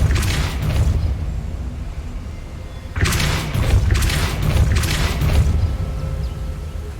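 A Depulso spell is cast in Hogwarts Legacy, a loud sudden booming whoosh that cuts in partway through over a dense rumbling background and then settles into surging rushes of sound.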